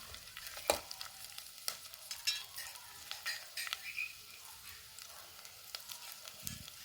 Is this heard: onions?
yes